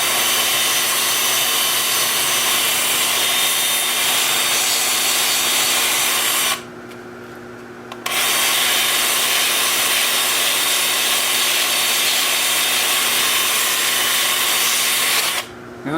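A steady, loud abrasive hiss of sanding a buckeye wood bowl on a lathe runs continuously, dropping out briefly twice before resuming, with a constant motor hum underneath.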